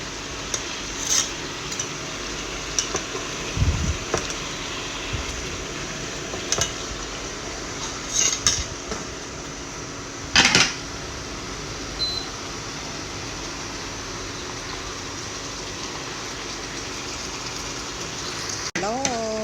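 Tofu frying in hot oil over high heat, a steady low sputter of oil with occasional clanks of utensils against the pan, while someone talks over it.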